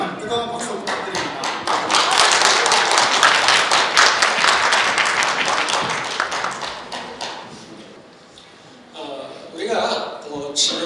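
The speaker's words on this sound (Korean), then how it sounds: "뜨거운 박수 부탁드립니다." Audience applause greeting a guest lecturer at a Korean cyber university student council inauguration, a dense wash of clapping that swells, holds for several seconds, then thins and fades near the end.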